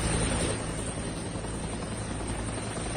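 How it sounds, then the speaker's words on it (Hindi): Two US Chinook twin-rotor military helicopters flying over Iraq during a US troop withdrawal, a loud, steady rotor drone with deep beating thump that fills the whole stretch without a break, no voices over it. "इराक में देखे गए अमेरिका के 2 चिनूक हेलीकॉप्टर्स, ये देखिए जरा।"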